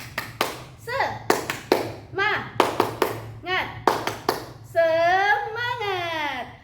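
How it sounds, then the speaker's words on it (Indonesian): Indoors, a seventh-grade class performs a rhythmic spirit clapping chant, groups of sharp claps in patterned bursts alternating with children's chanted voices, ending in a sustained sung call from the students. "Tepuk semangat."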